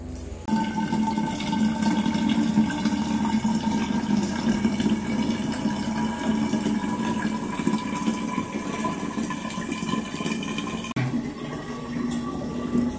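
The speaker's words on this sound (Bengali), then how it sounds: "তো চলো এদিকে জল ভরছি" Water runs steadily from an Aquaguard filter into bottles, a continuous rushing hiss with a faint hum that stays loud and even throughout and shifts slightly near the end.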